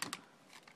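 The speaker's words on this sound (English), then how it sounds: "We're going to dial, punch in the name that you want to be on the display of the phone." Buttons on an NEC office phone keypad are pressed in a quick burst of a few soft, close clicks, faint and with no voices.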